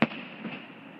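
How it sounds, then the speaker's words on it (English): A single firework bursts sharply at a Saugatuck, Michigan display, a sudden loud boom that trails off into a long rolling echo across the open air. "Wow, there's a lot of fireworks."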